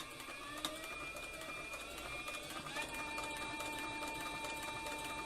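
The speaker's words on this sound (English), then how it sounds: "I'm sewing without a guide. I've got the open toe pressure foot on." A CB4500 industrial sewing machine stitches at speed with an open toe presser foot and no guide, giving a steady mechanical whirr with thin tonal whines, running continuously throughout at moderate level.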